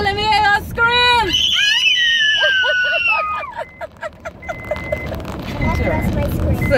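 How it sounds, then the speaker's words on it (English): A group of people on an outing to the Owl Hole on Grand Bahama screams excitedly, loud shrieks and whoops rising and falling, with a short pulsing run of yelps in the middle. "If y'all excited, let me hear y'all scream!"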